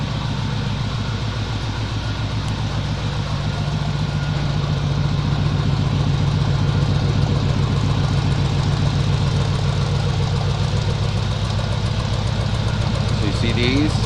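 A 1963 Chevrolet Impala SS engine idling, a deep steady lumpy rumble close up with an even pulsing beat throughout, and a voice speaking over it.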